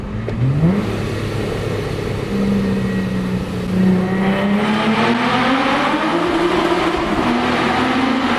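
Infiniti G35 coupe with a Vortech supercharger and single side exhaust accelerating through a tunnel, a loud, echoing engine note that climbs steadily in pitch through the gears over several seconds, with no talk.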